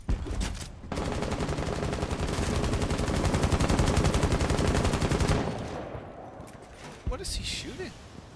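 Sustained rapid automatic gunfire in a Rainbow Six Siege 3v3 match, a dense burst of rounds lasting several seconds, loud and close, followed by a few scattered shots and game noise.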